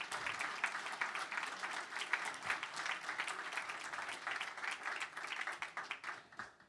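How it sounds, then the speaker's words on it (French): An audience applauds to welcome a guest speaker at a talk, a steady dense patter of many hands clapping, fairly distant and even, with no voices over it. "je vous demande d'applaudir et d'accueillir très chaleureusement Marcel Gaucher"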